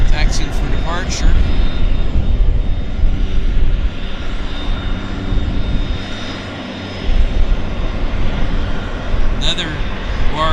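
A Hawker Siddeley HS-125 corporate jet taxis for departure at Vancouver airport, its engines giving a loud, steady roar and high whine that last throughout, with voices faintly under it.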